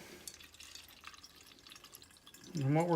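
Liquid pours into a container during a gold recovery and refining process, starting with faint drips and splashes under talk and then turning into a louder, rising pour near the end.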